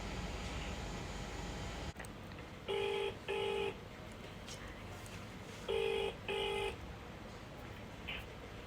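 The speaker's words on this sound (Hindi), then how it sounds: "मैं कॉल लगाता हूँ।" Two pairs of short electronic tones from a phone keypad being dialed, spaced a few seconds apart over a quiet background hum.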